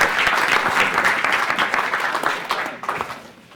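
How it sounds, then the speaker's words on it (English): Audience at a 2017 conference day applauds a panel of speakers, a dense, steady roar of many hands clapping close by, tapering off toward the end. "let's give them a round of applause"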